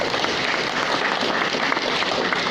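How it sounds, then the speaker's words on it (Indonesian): Congregation applauding God during a church worship service, a steady dense wash of many hands clapping at once, sustained and fairly loud throughout with no pause. "Tepuk tangan dulu buat Tuhan"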